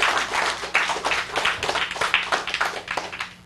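Audience clapping and applauding for a volunteer at a magic show, a dense continuous burst of many hands, fairly close and steady throughout, with no talking over it.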